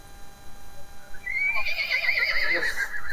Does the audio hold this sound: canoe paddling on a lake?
no